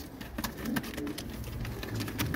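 Pigeons in a home bird collection coo softly at close range, with repeated low throaty calls and scattered rustles and wing sounds throughout.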